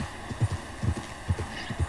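Horse hooves in the video game Red Dead Redemption 2 beat out a steady, rhythmic clip-clop as the horse takes sharp turns, thudding low and close over a constant game hum.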